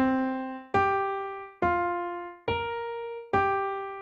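A melody from the video game Monster Hunter Rise sounds as five evenly spaced, bright plucked notes, each ringing and fading before the next, played alone and close.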